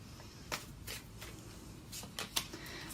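Tarot cards being shuffled and drawn, a few soft papery flicks and slaps scattered over a faint background hum, close and quiet.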